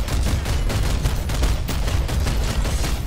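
Rapid bursts of gunfire from the sci-fi shooter Planetside 2, fired at a Sunderer vehicle during a squad battle, a dense, continuous clatter of loud, close shots with no pauses.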